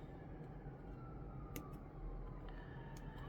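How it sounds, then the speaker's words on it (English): Faint wailing sirens drift in from far away over a steady rumble of background noise, their pitch slowly rising and falling. "sirens going off all over the place all day."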